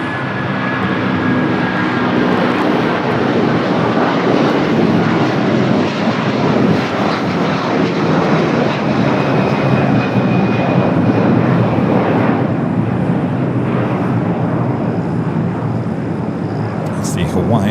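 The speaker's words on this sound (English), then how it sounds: "A330-200 heading to Honolulu" A Hawaiian Airlines Airbus A330-200 airliner takes off from LAX bound for Honolulu, its jet engines a loud, sustained roar throughout, with a voice talking over it.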